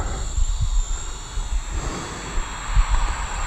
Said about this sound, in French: c'est un drone qui est vraiment particulièrement lent